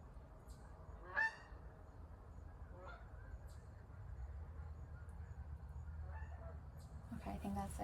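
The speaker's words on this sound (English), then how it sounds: "Can you hear the Canadian geese?" Canada geese honk outdoors, a loud nasal call near the start followed by a few fainter, more distant honks, over a steady low background hum.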